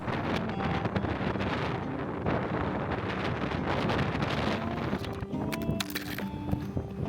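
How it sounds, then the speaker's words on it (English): Wind buffets a DJI Osmo 3 camera standing upright outdoors in the Oklahoma and Texas Panhandles, producing loud, continuous rumbling microphone noise with gusty surges throughout. "what happens when you leave your Osmo 3 standing up in the wind"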